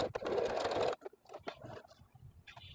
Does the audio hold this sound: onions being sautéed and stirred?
no